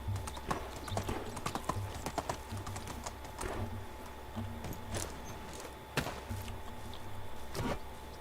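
Horse hooves clip-clop steadily in the medieval survival game Medieval Dynasty, a close, repeated trotting rhythm with sharp transient knocks throughout and no talk.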